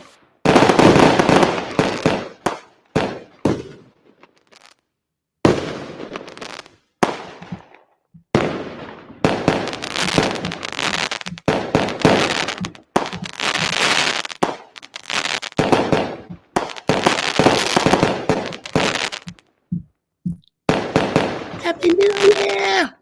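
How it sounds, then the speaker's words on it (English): New Year fireworks display with repeated loud explosive bursts and crackling in irregular clusters, separated by brief pauses, with people's voices mixed in at times. "see a little bit of some fireworks going on for you to enjoy the firework display"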